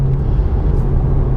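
BMW 1M engine on the move on busy roads, held below its rev limiter: a loud, steady low rumble from the car, continuous and close, with no talking.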